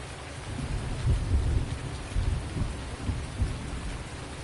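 Steady rain with rumbling thunder in a farming video game, a dense constant patter with low rolling booms swelling beneath it, heard alone without talk.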